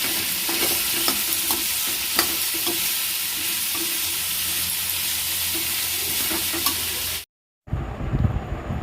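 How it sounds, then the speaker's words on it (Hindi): Vegetables sizzle and fry steadily in a hot pan during tempering, a continuous close, dense hiss with occasional stirring clatter, then a brief cutoff before a muffled rustle. "सब्ज़ी छौंक दिए"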